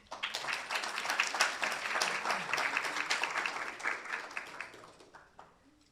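Audience applause welcoming a speaker at an academic lecture on immunity against Brucella abortus, steady dense clapping from a sizable crowd lasting about five seconds before tapering off near the end.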